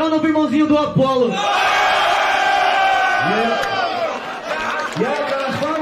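A crowd at a rap battle cheers and shouts loudly in a sustained roar, with voices calling out above the noise and people talking at the start and end.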